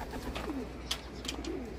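Pigeons at a loft coo softly in a few low, rolling calls, with background rustling and a couple of brief wing or perch noises between them.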